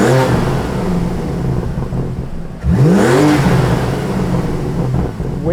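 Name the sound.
BMW M3 engine revving with front mount intakes, valves open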